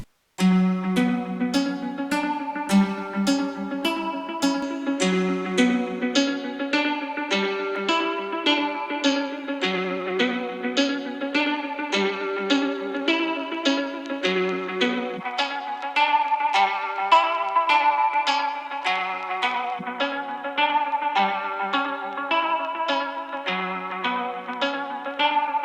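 Plucked melodic notes come through a thin, narrow mono lo-fi plugin effect from the AIR Creative FX Collection 2, sounding boxy and flattened as a steady phrase repeats.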